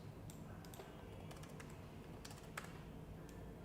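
Faint keystrokes on a computer keyboard enter numbers into an Excel spreadsheet, scattered soft clicks in short bursts over a steady background hiss.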